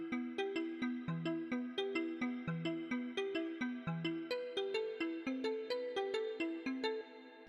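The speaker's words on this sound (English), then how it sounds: "I initially with this tune wrote sort of this ARP synth thing that sounds like this" A bright arpeggiated synth line from a drum and bass tune runs in fast, steady repeating plucked notes with a low bass note pulsing beneath. It plays alone and close before dropping off at the end.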